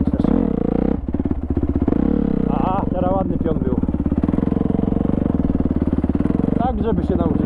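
Honda CRF dirt bike engine running at low revs, a loud, close, steady throbbing putter with small rises in pitch, while a rider talks over it.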